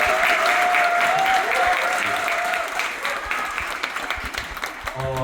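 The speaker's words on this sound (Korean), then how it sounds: "큰 박수로 앞으로도 많이 도와주십시오." Audience applause fills a lecture hall at a Democratic Party political talk in Korea, a dense, steady clapping from a large crowd that thins slightly toward the end, with a faint voice briefly audible beneath it.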